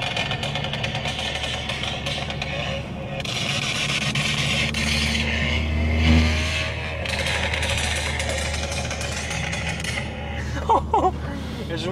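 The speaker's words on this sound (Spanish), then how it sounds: "Mira, estos son los pops que le hice a un cliente mío hace tiempo." A tuned car with an aftermarket exhaust idles and revs nearby, its exhaust crackling with a few sharp pops, while people talk over it.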